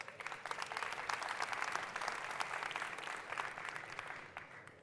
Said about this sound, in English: you can applaud them